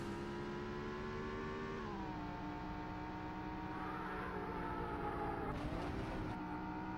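Engine of a car in the Road & Track Presents The Need for Speed racing game on the Sega Saturn, a steady loud droning hum that dips in pitch briefly as if shifting gear.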